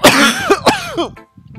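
A man who choked on water coughs hard twice in quick succession, loud and close, with a rough gasping tail before trailing off into quiet.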